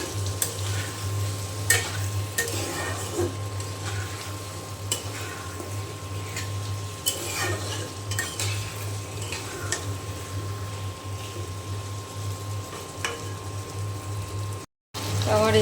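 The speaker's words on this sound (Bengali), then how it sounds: "এখন কচু খুব ভালো করে আমি মশলার সাথে কষিয়ে নেব।" Taro being sautéed with spices in a pan, shrimp curry with eggplant cooking, giving a steady low sizzle with scattered spoon scrapes and stirring clicks, a constant hum running underneath and a brief dropout near the end.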